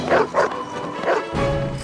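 Sled dogs tied on leashes bark in Antarctica during a fierce storm. A few loud, close barks and yips come in quick bursts over a steady rush of wind.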